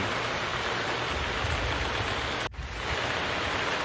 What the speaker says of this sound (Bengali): রাগ হয়ে তার বাগানে শুধু বৃষ্টি ঝরাতে থাকে